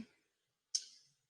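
A button pressed on a Snap Circuits arcade game gives a single small, sharp click, close and quiet, after a faint tick at the start.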